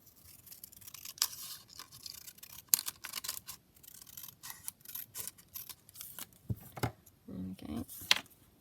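Scissors snip a small scrap of book page for a junk journal: quiet, close, irregular cuts and paper rustles in a hushed room, with no talking.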